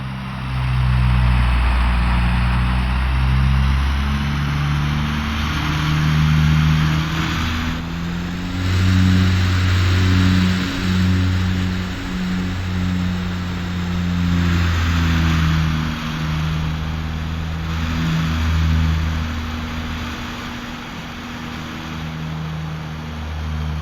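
Dash 8 Q400 turboprop in the AeroFly FS2 flight sim using reverse thrust to back away from the gate, a loud sustained engine drone with a steady tonal whine that shifts slightly in pitch throughout.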